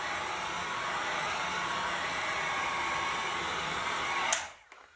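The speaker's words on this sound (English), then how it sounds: "I'm moving my heat gun because if I leave it in one place too long, that's what could start to bubble the paint." A heat gun blows steadily and loudly on a flexible wood moulding, a continuous airy roar lasting several seconds before it cuts off abruptly near the end, leaving a faint click and quiet.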